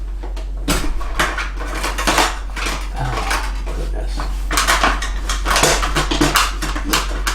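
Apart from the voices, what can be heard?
rummaging in a kitchen drawer for a spatula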